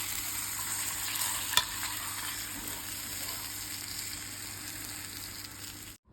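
Vanjaram fish frying in a pan, a steady, fairly quiet hiss of hot oil with one brief clink partway through, then cutting off abruptly at the end.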